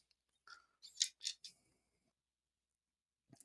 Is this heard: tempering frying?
no